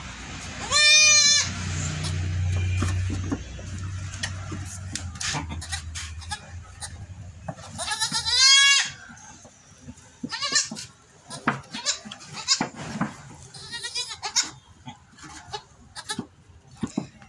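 Goat kids bleat in a few loud, wavering cries close by, separated by stretches of rustling, clatter and quiet background noise, with a low hum early on.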